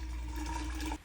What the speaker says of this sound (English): I'm gonna go ahead and open up the water just to make sure the water's flowing.